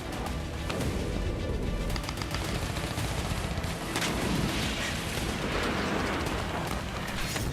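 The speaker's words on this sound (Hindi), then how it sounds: "दक्षिणी गाजा पर रात भर भीषण बमबारी जारी रही" Heavy overnight bombardment and gunfire in southern Gaza, a dense continuous barrage of rapid gunshots, bursts and booms that stays loud and unbroken throughout, with no talking.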